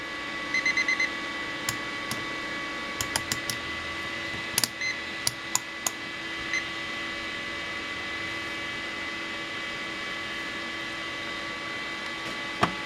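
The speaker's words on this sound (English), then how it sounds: "You hear it beeping?" UNI-T UT61E+ digital multimeter emitting short electronic beeps in irregular bursts, some in quick clusters, over a constant mains hum, heard up close.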